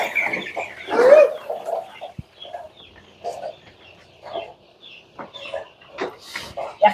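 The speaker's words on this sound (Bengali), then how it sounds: "এখানে অনেকগুলো মুরগির বাচ্চা।" A crowd of fifteen-day-old chicks crowds together near an electric heating board in a poultry shed on a cool day. Their busy, overlapping peeps and soft clucks come close and steady, with no one talking.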